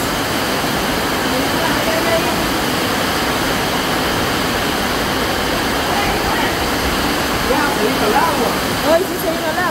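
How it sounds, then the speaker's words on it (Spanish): Heavy rain pours down steadily in Jabalí, a dense, even hiss that holds for nearly ten seconds with no pause. "Hoy sí se vino el agua."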